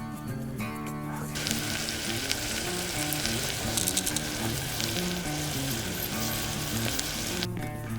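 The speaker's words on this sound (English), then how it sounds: "You want them nice and sauteed together." Chopped vegetables for a pork and apple stew sizzle steadily in a pan outdoors in a winter forest, a continuous close frying hiss with faint stirring, over a low musical background and no talk.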